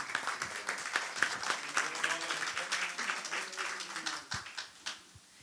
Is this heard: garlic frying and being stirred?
no